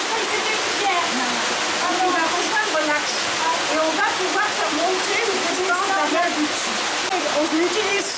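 At the old mill of Pralognan in Saint-André, Savoie, water pours steadily onto the mill wheel in a constant loud rushing wash, with a voice talking faintly underneath.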